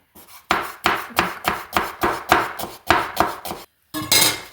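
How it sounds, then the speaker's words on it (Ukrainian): Vegetables sliced into thin julienne strips with a knife on a cutting board, about ten crisp, evenly paced chops in a steady rhythm, loud and close, a brief pause near the end before a final cut. "нам треба зараз порізати овочі я буду їх нарізати соломкою"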